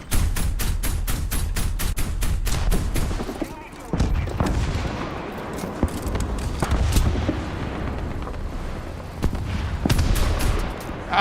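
Rapid aircraft gunfire from the combat flight game War Thunder, dense bursts of loud cracking shots in quick succession, with a brief pause and further bursts following, a voice faintly underneath.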